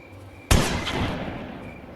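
A single sharp gunshot from Granny in the horror video game cracks out close and loud, then fades through a short rumbling tail.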